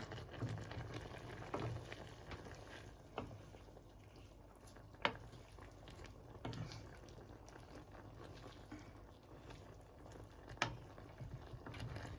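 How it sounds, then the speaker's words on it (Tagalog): Quiet bubbling of water boiling in a pot, soft continuous simmer with occasional light clinks nearby. "Diba? Kumukulo na."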